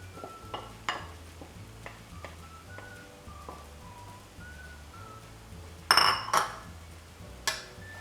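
Fried rice with pads of butter stirred in a hot pan, with soft scraping and clinks of a utensil against the metal over a low sizzle and a faint musical backdrop, one louder clatter near the end.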